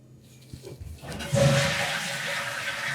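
A toilet flushes with a rising rush and roar of water that swells and then settles into a steady gurgling drain, moderately close and without talk over it.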